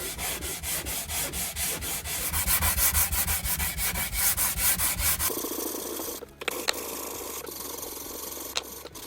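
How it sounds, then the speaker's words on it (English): Hand sanding of wooden sailboat washboards, a steady run of rhythmic back-and-forth rubbing strokes, close and loud, changing partway to a smoother, quieter scraping with a few light knocks. "I spent about half an hour sanding both washboard before get the correct fitting."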